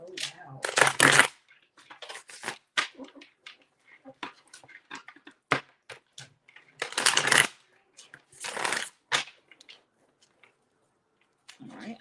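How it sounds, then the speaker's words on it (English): Tarot cards shuffled by hand in a quiet room come in several loud riffling bursts separated by pauses, with softer handling noises and a low voice in between. "shuffle the cards"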